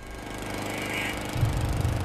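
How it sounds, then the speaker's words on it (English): A lawn mower runs on a residential lawn in the early morning, a steady droning engine hum that grows louder and rougher partway through. "It was earlier in the morning, and Sonny Buchanan was cutting the lawn."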